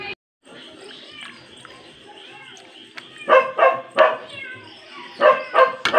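Several household dogs bark in sharp repeated bursts, loud and close, over a background of low chatter and a person talking.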